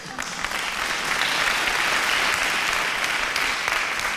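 Sustained applause from a TV quiz show studio audience fills the room, steady and fairly loud, with no talking over it.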